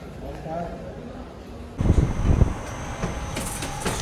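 A Jan Shatabdi Express train bound for Dehradun rumbles beside a station platform, its low hum swelling into heavier clattering rail noise midway, with people talking nearby.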